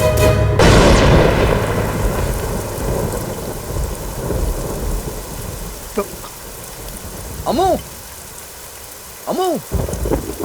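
Heavy rain pours steadily with a loud thunder crack at the start, and rumbling continues under a dramatic scene where people speak briefly over the downpour.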